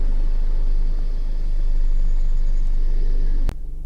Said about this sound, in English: engine's running as it has been all the way through